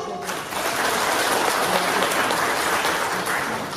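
Audience applause at a Taiwanese temple association members' meeting, sustained steady clapping from many hands filling the room for the whole stretch.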